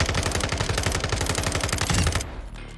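Submachine gun fire on the firing range in Modern Warfare 2: a loud, rapid, sustained automatic burst lasting about two seconds, then an abrupt stop leaving a dull tail.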